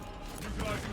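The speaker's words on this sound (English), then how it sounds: "Reloading." Weapon reload in the Space Marine 2 video game, a quick mechanical clack and creak lasting under a second, close and fairly loud over continuous game background noise.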